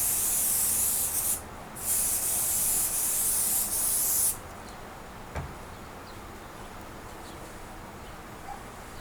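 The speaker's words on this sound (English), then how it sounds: "I'm going to go ahead and spray that to attach the backing on" Two hissing bursts of aerosol spray adhesive, a short one then a longer one, close by, attaching backing to a quilt, followed by quiet with a faint tap.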